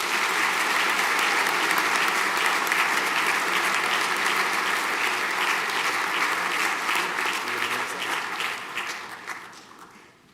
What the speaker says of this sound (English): A large round of applause, please.